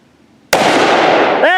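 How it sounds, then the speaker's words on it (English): A Desert Eagle .50 AE pistol fires a single sharp, very loud shot outdoors near woods, the blast cracking suddenly out of near silence and ringing on in a broad roar before a brief tonal ring at the end. "It's like firing a hand cannon. It is a hand cannon."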